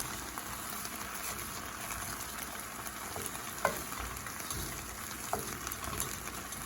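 Garlic, bay leaves and rice stirred in a pot over a hot gas flame give a steady close sizzle, with a few faint scrapes of the spoon.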